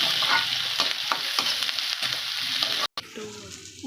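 Green chilies and ginger garlic paste fry for an egg curry, a steady bright sizzle broken by spoon scrapes at a regular pace, then a brief cut and a softer hiss afterward.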